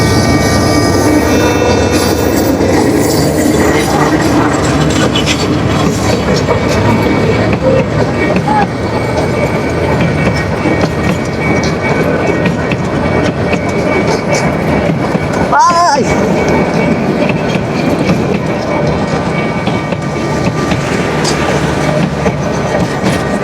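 The Probal Express, a passenger train running between Cox's Bazar and Chattogram, rolls in with a loud, continuous rumble and rattle of wheels and carriages that holds for over twenty seconds, with a brief tonal sound near the middle.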